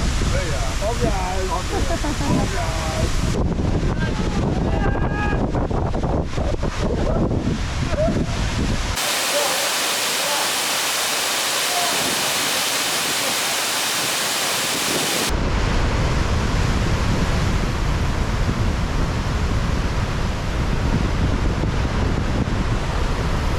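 Jerling Waterfall on the Otter Trail, a steady broadband rush of falling water close by, with wind buffeting the microphone and voices talking over it at times.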